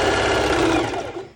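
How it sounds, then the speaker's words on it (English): A home sewing machine zigzag-stitches stretchy swimwear fabric for a swim skort, a dense, steady mechanical whir that runs loud and close without pause, easing slightly toward the end. "I wanted to show you how to do it with your normal sewing machine"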